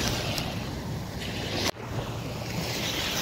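Sea waves washing onto a quiet Singapore village beach, a steady broad surf roar with gusts of wind buffeting the microphone and a brief sharp knock partway through.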